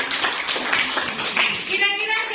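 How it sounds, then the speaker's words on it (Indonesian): A class of students applauds in a classroom, steady dense clapping for a couple of seconds, close and loud, with voices mixed in. "Thank you, tepuk tangan untuk Andre."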